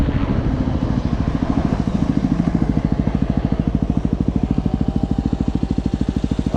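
A Yamaha WR250R motorcycle engine while riding, a loud, close, steady thrumming pulse with rapid even firing beats and wind rush, running continuously with no talk.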